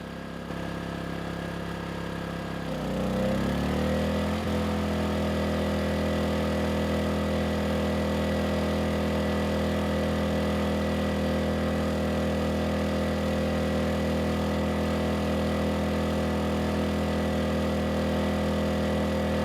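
A portable Erayak 4500W generator engine under load, around 1,500 to 3,000 watts, drones steadily with a deep, even hum that rises slightly in the first few seconds, then holds constant and fairly loud throughout.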